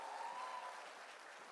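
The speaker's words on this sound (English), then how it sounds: "So the clap should be bigger." Faint, dense audience clapping from a conference hall after a performance, heard at a distance as a steady wash of applause with a thin tone in the first half.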